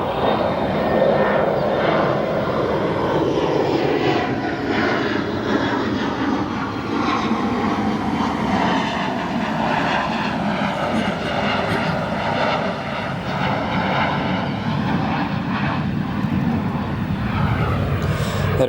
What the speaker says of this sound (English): That Aer Lingus arriving from Dublin after an 8-hour flight on an A330-302.